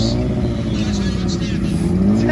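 Honda Rebel motorcycle at a drag race against a 1000, engine droning and revving loud and close, with a voice talking over it.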